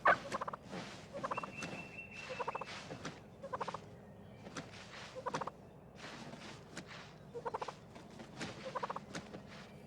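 A wild turkey gobbler, the dominant tom in a group of hens, jakes and jennies, gobbles in repeated rattling bursts with short pauses, fairly close and clear over low outdoor background noise.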